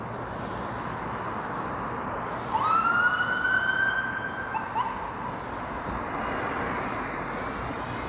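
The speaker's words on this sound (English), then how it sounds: "Sounds like an ambulance is making its way over." Ambulance siren on a Toronto street near Bloor in the West Bend area, rising as a single far wail that swells briefly over steady traffic noise and then fades.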